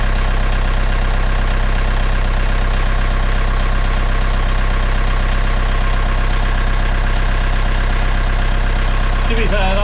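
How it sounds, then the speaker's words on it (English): A car engine idles steadily during an oil change, a loud, close, even low rumble that holds throughout with no revving, and a brief faint voice near the end. "If you can hear me over the engine"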